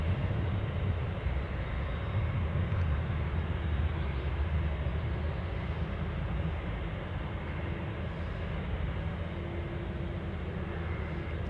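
An aircraft arriving at Anchorage airport, a steady broad engine roar that holds at a moderate distance throughout without pause.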